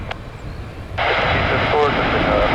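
A fixed-wing airplane starts its takeoff roll on runway 26 West at Ford Airport in Grand Rapids, its engine noise rising abruptly to a loud, steady broadband roar partway through, close by, after a quieter stretch with a brief radio voice.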